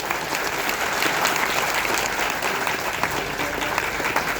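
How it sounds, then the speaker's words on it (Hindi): An audience at a women's motivational event gives a loud, dense round of applause, many hands clapping steadily and close for the whole stretch without a break. "एक जोरदार तालियां बजा दो भाई।"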